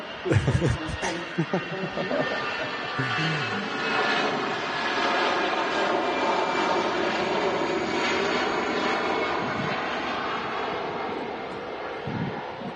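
An airplane taking off at Manchester Airport gives a long, broad roar that rises quickly and holds steady at moderate distance, with brief voices near the start and end.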